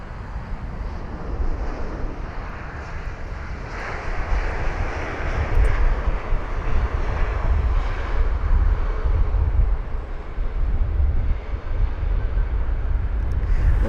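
Aer Lingus A320neo rolling off the runway at Heathrow: a sustained jet engine drone with low rumble, swelling slightly midway, steady and moderately near.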